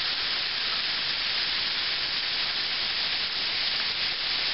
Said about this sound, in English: Now you hear how the meat has quieted down a little bit, it's not frying quite as hard as earlier